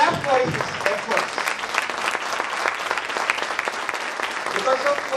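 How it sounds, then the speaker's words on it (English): Steady applause from an English speakers' club audience at an anniversary gathering, a dense wash of many hands clapping continuously for several seconds, with some voices mixed in. "We must all clap for his efforts."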